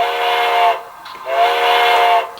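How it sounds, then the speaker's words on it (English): Long steam whistle from a Bachmann Spectrum 2-8-0 HO scale model locomotive with DCC sound, a bright chord-like tone held for under a second, then sounded again after a short gap. "Number 2 is the long whistle."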